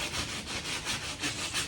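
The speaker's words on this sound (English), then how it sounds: "sanding all this excess off here" Hand sanding excess fibreglass with 80 grit sandpaper on a VW Manx buggy body under restoration, steady rhythmic rasping back-and-forth strokes, close and loud, with no talking.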